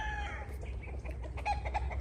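Several chickens cluck and call nearby in a busy, overlapping stream, with a faint crow mixed in over a low background hum.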